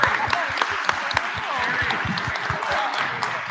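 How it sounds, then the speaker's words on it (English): A hackathon audience gives a round of applause. The clapping is crisp and fairly close, with sharp individual claps standing out, and voices murmur underneath. "One round of applause."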